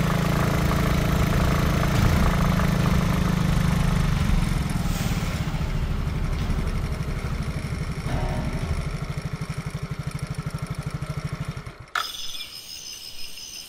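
A motorcycle engine carrying three riders runs steadily and loudly at close range, a continuous mid-pitched drone that holds for most of the clip, then cuts off abruptly near the end, leaving quieter ambient sound.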